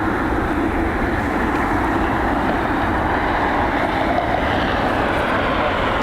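A United Boeing 787 airliner taxis at Cleveland's airport, its jet engines giving a loud, steady, unbroken roar that holds at one level throughout.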